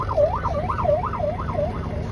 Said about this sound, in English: It does also have a siren in it with a PA system.